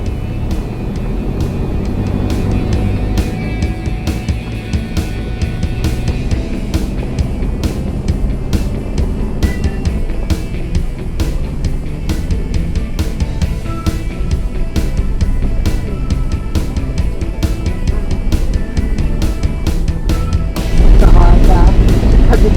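A four-wheel drive car drives across loose sand on K'gari (Fraser Island), its engine a steady, loud rumble throughout with people talking over it.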